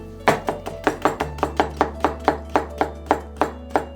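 A knife chops onion and carrot into thin strips on a board, producing about a dozen crisp, evenly spaced strikes close up with no talking.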